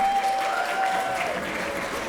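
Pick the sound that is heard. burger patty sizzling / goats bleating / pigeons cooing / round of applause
round of applause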